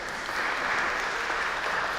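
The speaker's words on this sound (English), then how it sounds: "give yourselves a round of applause" A concert crowd gives a sustained round of applause, even and full, with plenty of hands clapping at once and no talking.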